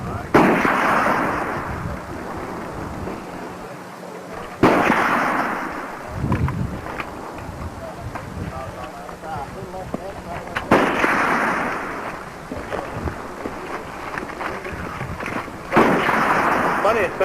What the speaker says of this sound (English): It must be a small caliber.